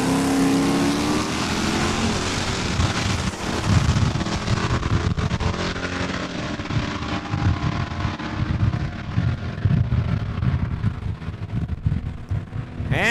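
A Super Coupe and a 1976 D200 truck launch in a drag race at Saskatchewan International Raceway in Saskatoon. Loud engine roar and revving fill the track, then fade into a rough, uneven rumble as the vehicles pull away.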